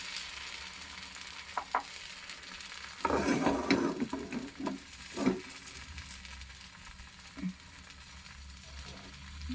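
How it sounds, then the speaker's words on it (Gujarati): Wheat flour pudla batter sizzles as it spreads on a hot pan, with a louder burst of frying at about three seconds and shorter hissing flare-ups after it. A low, steady sizzle runs underneath, with no talking. "તો આપણે થોડું થોડું કરીને બેટર બધું પાથરી દઈશું"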